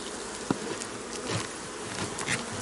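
Honey bees buzzing steadily up close at a hive, a dense droning hum with a few brief sharper passes and no talking.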